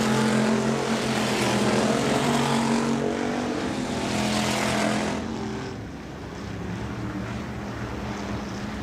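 Hobby Stock race cars roar around a dirt speedway on the final lap, a dense, steady engine drone that swells and then drops back as the pack passes, with no talk over it.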